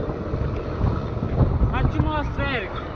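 Strong wind buffets the microphone while mountain biking on the road, a steady low roar with gusts, joined by the wash of a passing truck; a voice briefly speaks over it.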